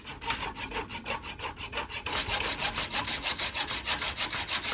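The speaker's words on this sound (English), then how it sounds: "use the hacksaw to actually cut through the nails holding the planks on" A hacksaw cuts through nails holding wooden planks together, giving a close, steady back-and-forth rasp of quick regular strokes that speed up slightly partway through.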